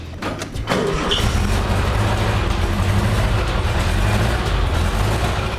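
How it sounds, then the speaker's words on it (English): A 1960 Porsche Roadster at an antique and classic car show starts up, a few clicks and a cranking catch giving way to a steady, close, loud idling engine drone. "That's the sound of a 1960 Porsche Roadster."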